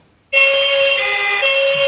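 A steady electronic fire engine siren tone, likely from a toy, starts abruptly after a brief silence and holds loud and continuous, with a slight shift in pitch near the end.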